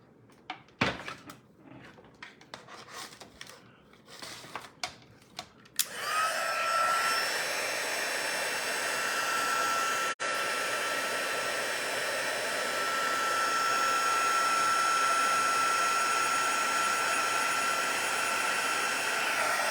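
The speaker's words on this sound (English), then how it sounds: "Now let's grab our heat tool." A handheld heat tool blows hot air to melt embossing powder, switching on after a few seconds of light tabletop clatter and then roaring steadily and loudly for the rest.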